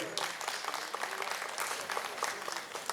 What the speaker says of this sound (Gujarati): એવા મારા બહેન માટે અને ભાઈ માટે જોરદાર તાળી થઈ જાય